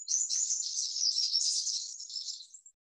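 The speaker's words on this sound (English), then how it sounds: "That's a bit of an alarm call of the fairy wren." A fairy wren giving its alarm call: one high, rapid chittering trill lasting under three seconds, fairly faint and alone, with no other sounds.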